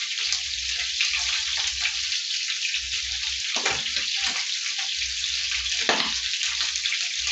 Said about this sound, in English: Because pork is oily, and so the oil keeps popping up.